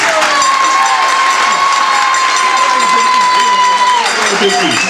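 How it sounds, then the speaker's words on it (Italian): A crowd at a football school presentation in Lusciano cheers and applauds loudly and steadily, with a whistle-like tone and voices mixed through the noise. "Non ho sentito l'applauso."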